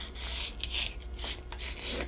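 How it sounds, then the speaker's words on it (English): A knife slices celery stalks lengthwise into long strips, making soft, quiet rasping and rubbing strokes in a quick, uneven series close by. "I'm cutting them first into long strips"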